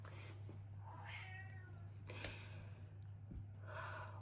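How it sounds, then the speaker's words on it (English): A domestic cat meows somewhere behind the listener, a few faint, drawn-out calls rising over steady low hum in a quiet room, slightly distant and soft. "My cat is behind me meowing somewhere."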